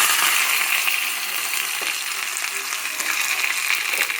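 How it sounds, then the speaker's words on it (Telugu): Curry leaves, green chillies and mustard seeds hitting about a teaspoon of hot oil, a close, bright sizzle that steadily fades in the opening second, then settles into an even hiss with scattered small pops and clicks. "కొద్దిగా కరివేపాకు, 4-5 పచ్చిమిర్చి, ఆవాలు 1/2 teaspoon ఆవాలు దీంట్లో వేసుకుందాం"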